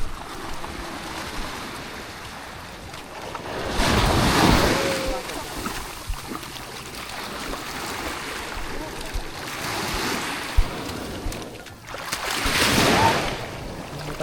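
Sea waves wash and surge around a boat during island hopping off Nasugbu, with two loud swells rising over steady wind rush and mic buffeting.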